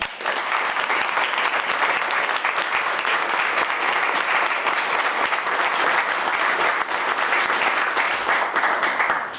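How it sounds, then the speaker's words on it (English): Sustained applause from a crowd at a police swearing-in ceremony, welcoming a newly appointed Chief of Police: dense, steady clapping at even loudness that fills the whole stretch without letup. "Would you join me in a round of applause for our newly appointed Chief of Police"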